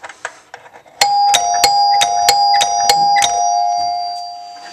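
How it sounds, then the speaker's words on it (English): A doorbell rings out with a run of loud, bright, sustained tones, several quick strikes blending into a jingling, toy-like melody that rings on after the last note. "Oh, listen to my doorbell. It's hilarious."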